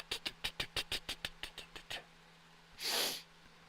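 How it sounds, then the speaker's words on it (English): A car engine ticks in a quick, even run of about a dozen sharp taps that fade slightly before stopping, followed by a short burst of hiss. "Hoping that is the reason why the engine is ticking. Because you can hear it going."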